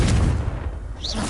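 Spell explosions from Bombarda and Confringo in Hogwarts Legacy: a loud, booming blast with a low rumble that decays, followed by a brief shimmering magical whoosh at the end.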